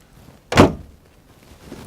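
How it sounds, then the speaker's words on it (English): A LiuGong excavator's cab door opens with one short, solid thunk heard close and alone, followed by quiet. "Open the door"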